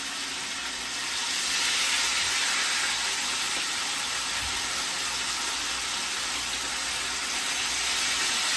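Fish frying in hot oil with garlic, a steady loud sizzle and hiss filling the whole stretch, with faint clinks from the pan and no talking.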